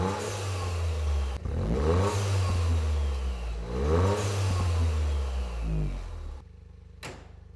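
A modified Toyota GR Yaris engine revs hard in repeated rising and falling sweeps, loud and close, before cutting off abruptly into near silence with one brief clack at the end.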